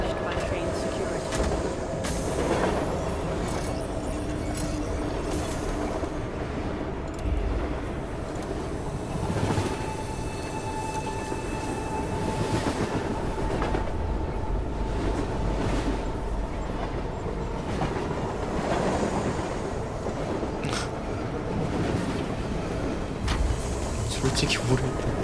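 Rumbling interior of a moving train carriage in the Enginefall video game, a steady broadband roar with wind-like hiss and occasional rattles running throughout, with a voice speaking over it.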